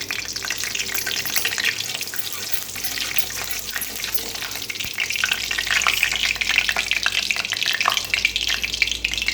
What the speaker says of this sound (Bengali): হালকা জিরে ফোড়ন দিচ্ছি